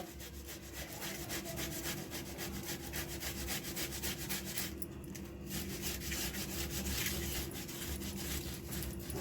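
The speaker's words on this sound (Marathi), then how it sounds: "आता ही किसणी आहे ना, ह्या किसणीनं जरा असा किसून घ्यायचा." Cooked peas or a vegetable filling being grated on a kitchen grater, a steady rapid rasping scrape repeated rhythmically and close, with no talking.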